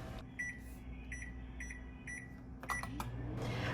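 A microwave oven steaming Brussels sprouts hums quietly while a short repeating electronic beep sounds four times at even intervals, followed by clicks and a door clatter near the end.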